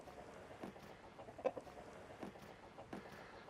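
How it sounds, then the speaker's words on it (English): Chickens in a coop and run give soft, scattered clucks and low murmuring calls, faint and intermittent over a quiet background. "now there's 12 chickens that stay here in a coop and run"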